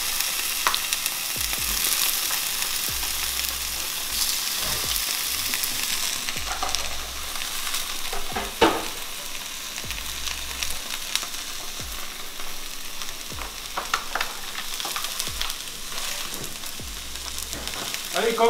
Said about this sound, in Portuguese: nós vamos selar a carne, pra ela ficar bem suculenta